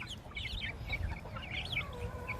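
Heritage breed chickens cluck softly in a yard, with short overlapping clucks and murmurs scattered over a low background rumble, faint and fairly close.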